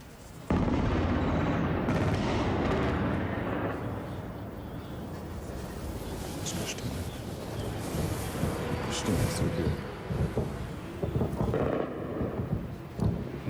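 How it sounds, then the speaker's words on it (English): Heavy booming blasts and rumbling from a bombardment of Baghdad, distant but powerful, rolling continuously with scattered sharper cracks over a dense low roar. "it definitely looked like we had some ground explosions there"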